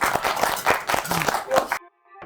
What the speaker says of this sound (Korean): 야호! 박수!